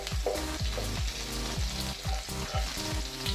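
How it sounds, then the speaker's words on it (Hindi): Garlic fries in hot oil with cumin in a pan, giving a dense, continuous sizzle with crackling pops and scraping stirs close up, with no talk. "लहसुन को भी हम अच्छे से भून लेंगे।"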